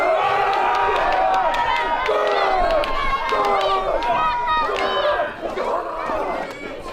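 Staged medieval combat at a fort reenactment, with loud, continuous crowd-like shouting and aggressive yelling from the fighters throughout, dense overlapping voices and scuffling, dipping slightly near the end.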